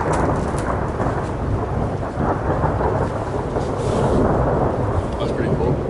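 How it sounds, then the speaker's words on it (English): Continuous thunder rumbling through cold rain, a loud low sustained roll with steady rainfall on surfaces, with no talking over it. "It's just like a continuous thunder."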